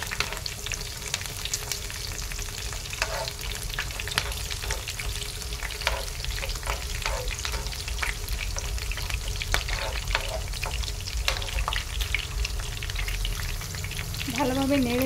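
Onions and curry leaves fry in a pan, a dense continuous sizzle broken by repeated scraping strokes of a spatula as they are stirred, steady and close throughout.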